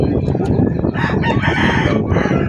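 Rooster crowing repeatedly among other clucking fowl, loud and close, with a busy farmyard din underneath.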